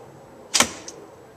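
A traditional wooden longbow looses an arrow with a single short, soft thump of the string, followed by a faint tap, in an otherwise quiet outdoor setting.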